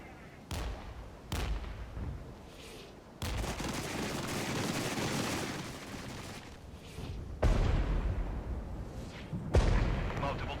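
Counter-battery artillery fire in the wargame Regiments lands as several heavy booms separated by a long rumbling barrage, distant-to-moderate in loudness, with a voice faintly present.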